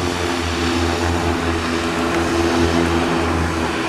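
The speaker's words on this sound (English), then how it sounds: "The formation flying does not end until the propellers wind down" Propeller-driven airplanes flying in tight formation at the 2009 Sioux Falls airshow, a steady loud droning engine hum with a firm low throb that holds evenly throughout.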